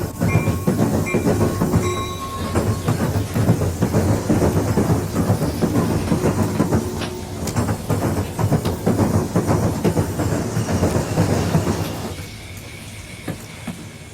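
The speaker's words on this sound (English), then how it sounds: "A couple of SD50s get the long train underway." A long freight train led by two SD50 diesel locomotives rumbles past on a Conrail line with heavy engine drone, clanking cars and metallic squeals, loud and continuous before easing somewhat near the end.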